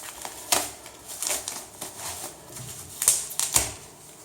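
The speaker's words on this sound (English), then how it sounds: "get rid of this extra packaging that was shipped with it" Plastic wrap crinkles and crackles in short bursts as fingers peel shipping packaging off a Zero 9 electric scooter, with sharp rustles standing out close by.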